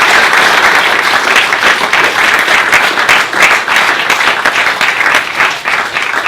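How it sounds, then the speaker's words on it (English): An audience at a startup theater event applauds, a dense and loud wash of many hands clapping that stays steady throughout. "And then let's give a big applause to this event,"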